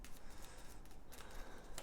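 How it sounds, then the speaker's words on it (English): A deck of cards from the Game of Thrones board game is shuffled in a few quick, quiet papery bursts close by, with no talk. "I can grab this deck and we will give it a shuffle"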